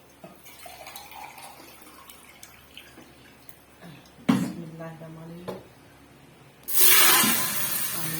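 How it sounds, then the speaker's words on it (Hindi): Water poured into hot ghee with white cumin in a home kitchen gives a sharp burst of loud, hissing sizzle near the end, after a quieter stretch of faint clinks and someone speaking. "अब यहाँ पे मैं इसमें डाल दूंगी पानी"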